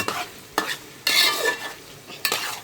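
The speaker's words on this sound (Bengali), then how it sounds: "এই যে কষানো হয়ে যাচ্ছে আমার" Spices being sautéed down in a pan, kosha style: sharp bursts of sizzling each time the mixture is stirred, four distinct surges with quieter frying between them, close up and with no voices.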